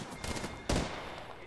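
Gunfire in the Apex Legends video game: a sharp, loud burst of shots that jumps out near the middle of a short stretch of busy in-game noise.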